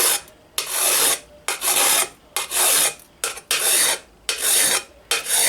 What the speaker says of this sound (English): It becomes a tricky one with a hand file.